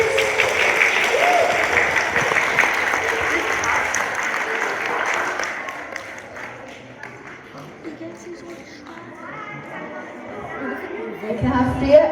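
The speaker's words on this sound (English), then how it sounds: "Can I have a big round of applause for Dominic, please?" A school audience gives a round of applause at a football kit launch, dense clapping that holds for several seconds, then thins out under light chatter before a few final claps.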